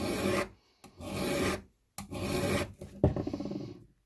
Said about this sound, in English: File this a little bit on the back, like a reverse whetstone.